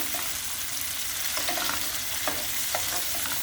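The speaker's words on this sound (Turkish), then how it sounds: "yeşil biber ve al biberimi içerisine bırakıyorum. Şöyle bir iki kez karıştıracağım" Green and red peppers being stirred in a hot pan, with a constant soft sizzle broken by a few brief scraping stirs; no one talks.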